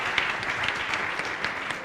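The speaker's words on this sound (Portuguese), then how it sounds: "Palmas para ele." An audience at a lecture claps steadily, a dense patter of many hands at moderate volume, with no voices over it.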